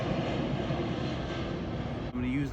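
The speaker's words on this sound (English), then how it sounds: "There's an airplane." Fixed-wing airplane passing overhead outdoors, a steady broad engine roar close and loud throughout, briefly dipping near the end, with faint talk mixed in.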